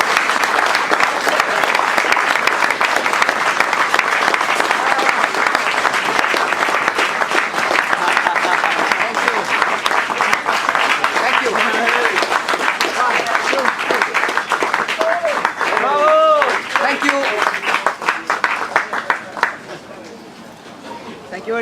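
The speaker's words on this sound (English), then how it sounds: "Can we have a round of applause and a little cake?" A large crowd applauds steadily for Giancarlo, the new Jordan Grand Prix driver, with sustained clapping and background chatter. The applause fades away near the end.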